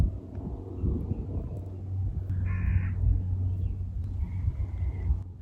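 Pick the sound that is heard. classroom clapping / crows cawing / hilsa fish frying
crows cawing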